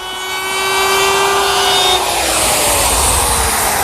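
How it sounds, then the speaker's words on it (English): Router with a 1/2 inch round-over bit cutting the underside edge of a teak counter, a loud high whine that rises as it spins up and then shifts pitch as the bit bites into the wood. "Then I'll radius the top and bottom edges with a 1/2 inch rounding over bit."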